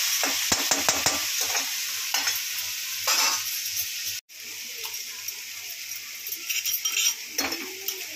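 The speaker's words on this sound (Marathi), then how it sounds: "इथे मटकीची उसळ आपली फ्रायच होते। तर ह्याच्यावर काय झाकण वगैरे ठेवायचं नाही, सारखं याला असं फ्राय करत राहायचंय।" Sprouted moth bean usal frying in an uncovered pan and being stirred gives a close, continuous sizzle, broken by repeated scraping strokes of a spoon and one brief pause partway through.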